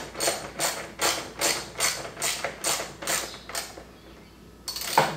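Ratchet tightening fasteners on a Roush grille light kit for a 2018-or-later Ford F-150, about eight evenly spaced bursts of clicking that stop abruptly, followed by a single sharp tick near the end.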